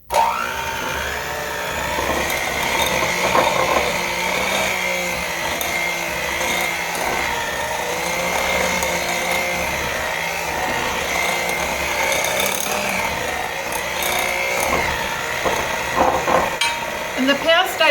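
An electric mixer whirs continuously through chocolate oatmeal cake batter, loud and close, its steady motor drone rising and dipping slightly as it works the bowl for a long stretch.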